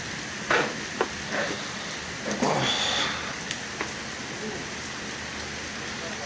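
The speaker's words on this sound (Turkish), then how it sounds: "Hep yağmur yağıyor ya." Rain falls steadily with a soft broad hiss, a few brief knocks and muffled sounds breaking through nearby.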